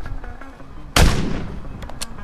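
A single loud, sharp gunshot blast from a video game weapon with a decaying echoing tail, followed by a couple of faint clicks, over quiet background game noise.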